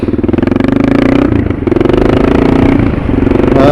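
A Suzuki DR650 motorcycle with a tuned jet kit rumbles loudly up close while riding, its single-cylinder engine thumping in a fast, even pulse with a brief dip in revs midway.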